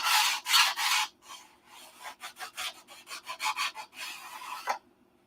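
Close, quiet hand sanding on a wooden model airplane wing: a few long rasping strokes, then a quick series of short rhythmic back-and-forth rubs, with no talking.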